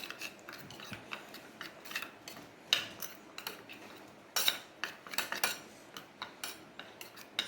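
A spoon mixes tamarind pulp into a spice mixture for Vidarbha-style kothimbir wadi, making irregular close clinks and scrapes against a bowl, some sharper taps among quieter rubbing, with no talking.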